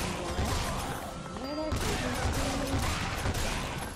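Roulette gun attack firing in Lollipop Chainsaw, a continuous clattering barrage of shots and crashes, loud and steady across the whole stretch with game music and tones mixed in.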